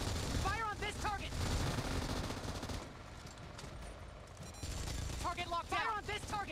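M249 machine gun in PUBG Mobile firing rapid bursts, two clusters of fast repeated shots at the start and end with a quieter mechanical stretch between, loud and close.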